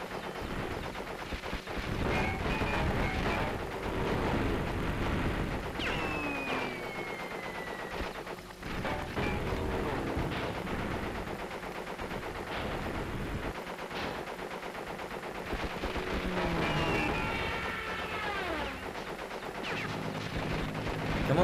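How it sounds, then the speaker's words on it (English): Gunfire aimed at the player in Crash Bandicoot 3: Warped, dense repeated shots and blasts layered over busy game music and effects, continuous and fairly loud throughout. "Stop shooting at me."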